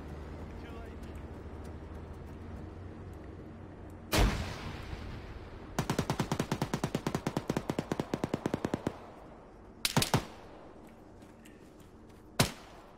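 Video game gunfire crackles in a rapid automatic burst of about two dozen shots, framed by a few single loud blasts and short bursts, over a low engine-like hum with no talk.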